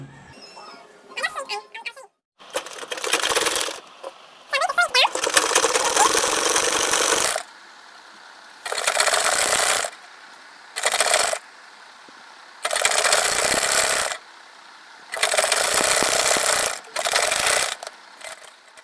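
Sewing machine stitching fabric for a pleated gathered turban, running in several separate bursts of a few seconds each with short pauses between them, loud and close.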